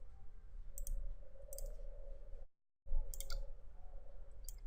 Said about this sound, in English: So I'll type mode SMA